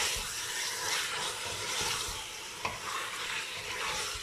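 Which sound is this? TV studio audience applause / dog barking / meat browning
meat browning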